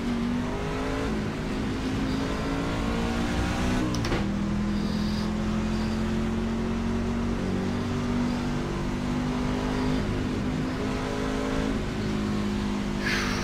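Simulated racing truck engine in iRacing on the Texas Motor Speedway oval, a steady high-revving drone held near constant pitch with a brief shift dip midway, loud and continuous with no talk.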